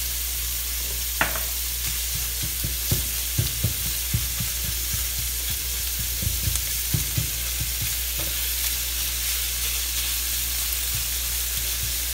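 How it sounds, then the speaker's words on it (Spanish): Ground meat browns in a pan with garlic powder and peperoncino, giving a loud, constant sizzle broken by repeated scraping stirs from a spoon or spatula. No one speaks over it. "Lo que queremos es dorar bien toda la carne antes de agregar el tomate o la pasta de tomate."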